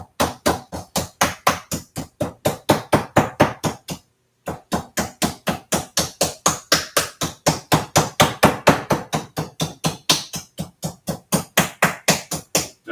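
Rapid, steady pounding of a flat-faced meat mallet on steak for Al Capone steak, dozens of quick thuds in a relentless rhythm with one brief pause, loud and close.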